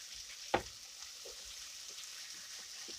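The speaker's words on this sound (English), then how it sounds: "Let's turn them over. Really, you just stirring them up." Onion potatoes frying in a pan, a faint steady hiss broken by one sharp scrape as they are stirred and flipped, then quieter crackles, close and quiet.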